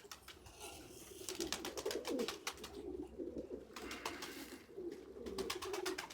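Red miramir pigeons coo softly in a loft, their low throaty calls rising and falling in overlapping bursts, with some rustling and faint background noise.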